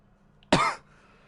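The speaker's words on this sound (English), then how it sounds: "Excuse the coughing." One short, sharp cough rises abruptly out of quiet background and fades within about a third of a second.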